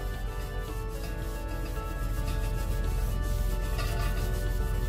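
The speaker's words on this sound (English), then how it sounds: "a piece of tissue that I'm going to lightly dip into the oil just to grease the top of my pan" A piece of tissue dipped lightly in oil rubs over the top of a thick, authentic dosa pan to grease it, giving a steady, close, continuous soft scraping and wiping sound with no talking.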